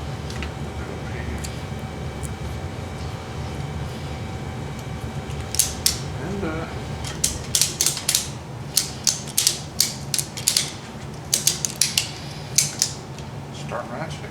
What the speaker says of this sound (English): start ratcheting